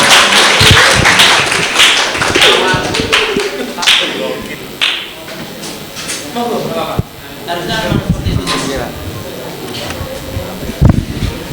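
An audience at an Indonesian talk breaks into loud, dense clapping that starts together and fades into scattered claps and taps, while someone speaks over it through a microphone.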